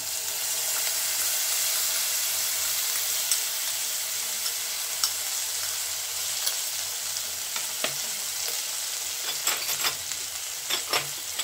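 Spice paste sizzles in a hot kadai while cooking kadhai paneer, a steady soft frying hiss with scattered light clicks and scrapes from stirring.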